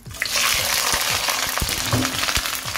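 Potato chips going back into hot oil for a second fry to crisp up, a loud, steady bubbling sizzle with scattered stirring clunks and pops throughout.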